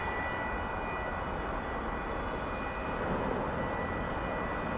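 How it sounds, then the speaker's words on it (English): An American Airlines jet takes off from the east side runways at DFW Airport, a steady, distant broadband engine roar that holds evenly throughout with no voices. "That American jet left us from the east side runways."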